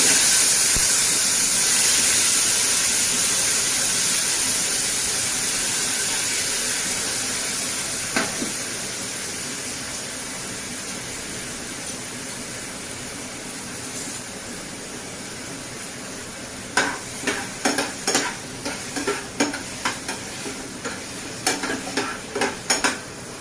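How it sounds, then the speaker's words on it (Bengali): Chopped tomatoes hit hot oil seasoned with panch phoron (five-spice tempering) and give a loud, steady sizzle that slowly fades, then scattered scraping and stirring clatters near the end. "দিয়ে দিচ্ছি কেটে রাখা টমেটো।"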